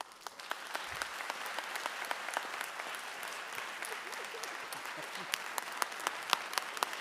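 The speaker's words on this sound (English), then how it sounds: "Big round of applause for Ms. Brown." An audience claps for Ms. Brown at a Henry County Schools Teacher of the Year 2021 ceremony. Sustained, fairly faint applause with sharp individual claps popping out, carrying on for several seconds without speech.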